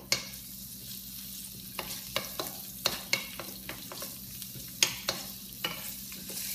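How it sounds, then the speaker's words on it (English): Garlic sizzles softly in oil in a seven-layer Icook pan, punctuated by repeated scraping clicks of stirring. "you could kind of hear it sizzling"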